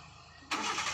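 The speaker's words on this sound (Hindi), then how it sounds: "वापस इंजन ऑन करो" A car engine cranks and fires up during a beginner driving lesson, jumping suddenly from near-silence to a loud, steady running roar halfway through.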